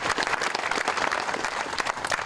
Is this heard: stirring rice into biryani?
no